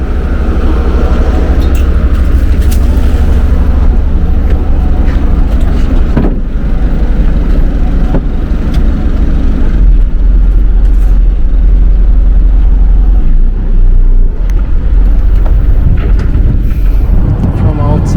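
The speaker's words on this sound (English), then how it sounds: "This is our boathouse, and we are just going for a ride." A houseboat's motor drones loud and constant on a backwater ride, with heavy low rumble and wind buffeting the microphone throughout.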